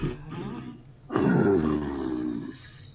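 A human voice imitates the slow, heavy breathing of something very large, like a dragon, during a tabletop role-play game: a long, deep, rasping exhale swelling loudly, with quieter breaths before and after.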